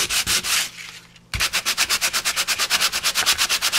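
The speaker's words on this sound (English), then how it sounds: "pulled out a piece of trusty sandpaper, and if I sanded those high ridges" Sandpaper rubs over dried modeling cream ridges on a cardstock card, a steady series of rapid, even scratchy strokes, close and fairly loud, with a brief pause before the rhythmic sanding resumes.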